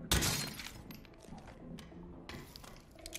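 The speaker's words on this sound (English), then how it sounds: "Why is there broken glass in here?" Glass shatters in the stealth video game Hitman 2, a sudden loud crash at the start trailing into tinkling debris, followed by softer clunks and taps of game activity.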